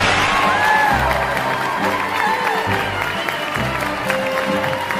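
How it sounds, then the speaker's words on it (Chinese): Applause and cheering from a crowd of players at an opening ceremony in the video game Raft, a steady dense clapping wash with scattered whoops lasting throughout, with tonal sounds running beneath. "掌声停一下"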